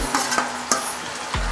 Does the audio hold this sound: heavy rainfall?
no